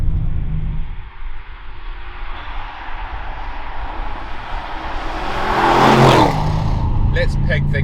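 A 2021 Audi RS7's powerful engine surges as it accelerates hard in fourth gear, the roar building and peaking before easing off, with wind noise throughout.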